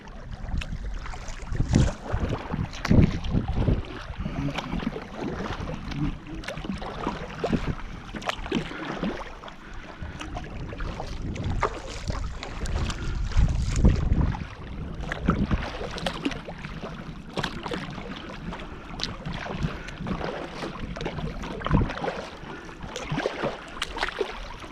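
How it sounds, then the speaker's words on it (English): Wind gusting past the microphone while paddling a Dagger Crossover 12.5-foot kayak on water, a steady rumbling buffet with louder swells and faint water sounds underneath, no talking. "Got a little bit of wind coming"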